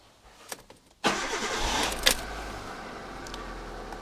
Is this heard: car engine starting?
yes